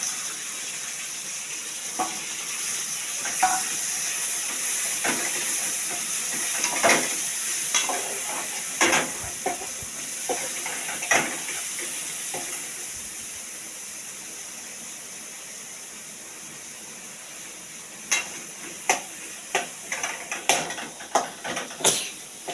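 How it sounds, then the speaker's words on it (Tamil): Tomatoes fry in a pan, a soft steady sizzle broken by irregular scraping and clinks of a spoon stirring, with a busier burst of stirring toward the end and no talk. "தேவையான அளவு தக்காளியும் போட்டுக்கலாம்."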